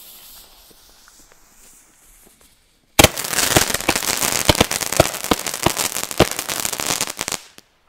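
After a quiet start, an older 12-shot firework battery erupts into a dense, loud rapid-fire run of cracking shots and crackles lasting several seconds before stopping abruptly.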